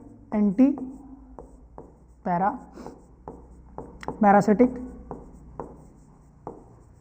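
Someone writes on a board during a biology lecture, making short, sharp taps and scratchy strokes spaced through the clip, with a man lecturing in between.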